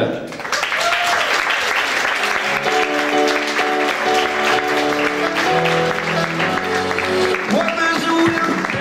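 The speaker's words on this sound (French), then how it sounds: "Je compte sur vous vraiment pour les applaudir comme il se doit" An audience at the Miss Oise 2017 pageant applauds the 18 candidates, with sustained loud clapping and crowd noise while music with steady tones plays underneath.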